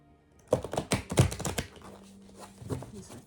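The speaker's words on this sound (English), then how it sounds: "Let me shuffle the other way." Thick tarot cards being shuffled by hand, a rapid run of crisp riffling taps and slaps for about a second, then softer scattered card sounds trailing off, close and fairly quiet.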